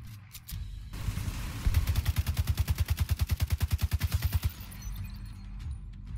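A rapid, evenly spaced burst of about twenty close, punchy gunshots from a weapon in The Division 2, a tight automatic rhythm lasting around three seconds, framed by a few scattered shots.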